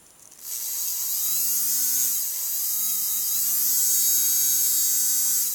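A strong motor on a homemade tattoo gun switches on and runs with a close, steady high-pitched buzz and whine whose pitch wavers slightly, starting abruptly after a moment of quiet.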